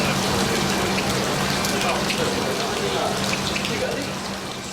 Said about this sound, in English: the set is flooded with millions of gallons of water